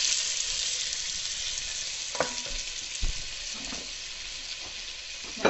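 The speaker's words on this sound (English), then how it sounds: "that's basically all you want to do is just get all the sides browned" Meat browning in a hot pan of butter and flour gives a steady close sizzle and fry, with a few faint scrapes and clinks of a utensil against the pan.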